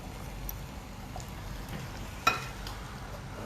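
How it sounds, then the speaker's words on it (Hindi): Food fries in a pan, a soft, steady sizzle close by with a few faint pops and one brief sharper crackle near the end, no voices over it. "अब मैं मेरे जो दूसरे रेडी है उसको भी फ्राई कर लेती हूँ।"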